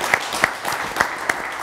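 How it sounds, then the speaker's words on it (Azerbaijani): Scattered clapping from a small audience at a presentation event, a few distinct sharp hand claps standing out over a light background of applause. "gəlin alqışlayaq"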